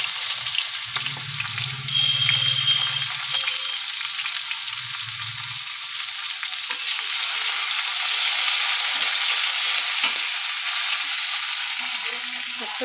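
Chopped onion frying in hot oil over a low gas flame, a steady close hiss of sizzling that runs throughout, with a few soft low stirring bumps near the start.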